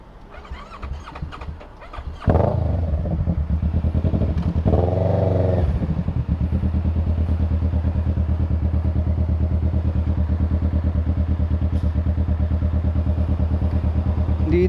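A motorcycle engine idles steadily and close by after a brief clatter at the start, with a short rev swell around the middle before it settles back into a continuous, even drone.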